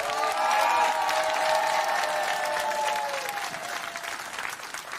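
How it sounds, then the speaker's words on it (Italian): Audience applause with cheering and scattered shouts for a food-festival cooking team in Romagna, a dense steady clapping crowd that swells early and gradually thins toward the end, with a few voices rising over it. "ed ora l'applauso per la squadra della rucola"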